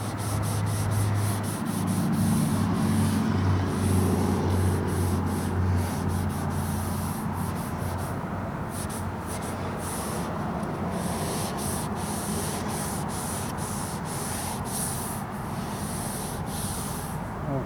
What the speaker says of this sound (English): I'm gonna go ahead and tack it. Got my tack cloth, and I'm gonna get started on this side.